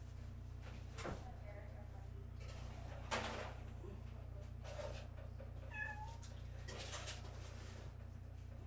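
A cat meows a few times in a home kitchen while cookies bake, short scattered calls rising over a steady low hum, with brief knocks and a person talking nearby.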